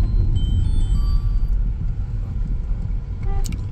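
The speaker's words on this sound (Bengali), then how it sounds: "হর্নটা একটু বেশি করে বাজে না তোমার?" A car parked by a dirt road sounds its horn in short toots, over a steady low engine rumble close by, with a brief sharper honk near the end.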